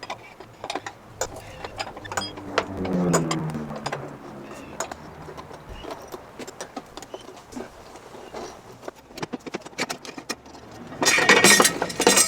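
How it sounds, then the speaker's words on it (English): A wrench works loose the 22 mm nut on a Pentair Clean and Clear pool filter, making a close series of sharp ratcheting clicks and metallic clinks at an irregular pace, with a louder, denser burst near the end. "is taking off this bolt, loosening the belt"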